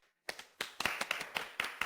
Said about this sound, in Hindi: आओ, हम सब मिलकर शुएमान की हिम्मत के लिए तालियां बजाते हैं।